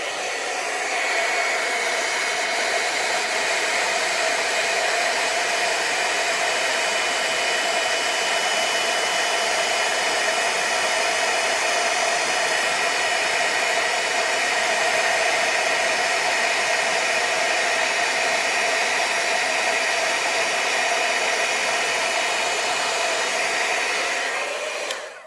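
A heat embossing tool blows hot air over embossing powder on a card, a steady loud whirring hum with a constant tone that runs without pause for about 25 seconds, then cuts off.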